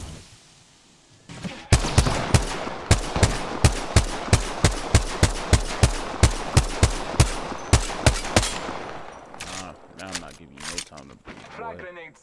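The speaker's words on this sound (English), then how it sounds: "I am taking fire, friends." Rapid automatic gunfire from a weapon in the battle royale shooter Apex Legends, a loud steady burst of evenly spaced shots lasting several seconds, then trailing off into scattered, more distant reports.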